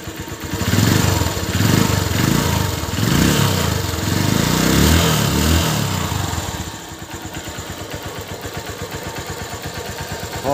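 A Honda TMX Supremo 150 motorcycle engine idles close by, a throbbing, uneven mechanical rumble that is louder and rougher for the first several seconds, then settles into a quieter, rapid steady putter.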